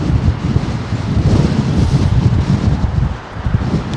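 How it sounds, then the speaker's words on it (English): Gusty crosswind at Heathrow Airport buffets the microphone, giving a loud, continuous low rumble that swells and dips over a few seconds, with no voices. "Nice bit of crosswind."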